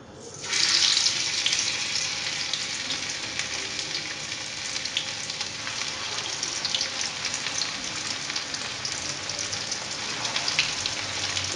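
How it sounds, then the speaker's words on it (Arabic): Sardines frying in hot oil in a pan, giving a steady, loud hiss and crackle that swells right after they go in and then holds, close up with no talking. "الآن غادي نحاولو نقليوه"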